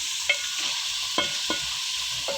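Chicken achari karahi with garlic-ginger paste sizzles steadily in a pan, a constant frying hiss broken by a few sharp scrapes and clacks of stirring.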